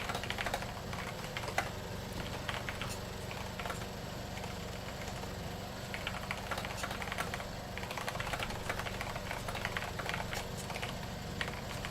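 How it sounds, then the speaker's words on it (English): Rapid, continuous clatter of keys on a very loud gaming keyboard, typed steadily at close range over a low background hum, with no talking. "The loudest keyboard in the world."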